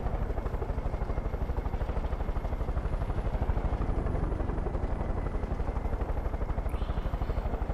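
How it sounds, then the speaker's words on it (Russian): A helicopter in the video game Far Cry 5 flies with a steady, close rotor chop that pulses rapidly and evenly throughout, with a constant engine drone beneath it. "Вертолет у нас божественный."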